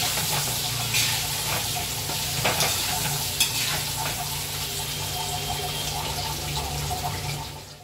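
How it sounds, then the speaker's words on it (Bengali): Potatoes seasoned with salt and turmeric fry in a pan with a steady, dense sizzle and some stirring scrapes and soft clatter, continuous and close throughout with no voices. "আলুগুলো কিন্তু প্রায় ভাজা ভাজা হয়ে এসেছে"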